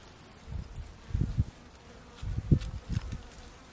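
Honey bees buzz low and close in a few swelling bursts in cool, shaded December weather, fading in and out against a quiet outdoor background.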